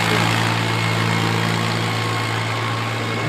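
A Valmet 565 veteran tractor at a tractor pull runs with a loud, steady low engine drone and heavy vibration, continuous and close throughout.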